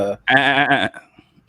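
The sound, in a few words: goat bleat sound effect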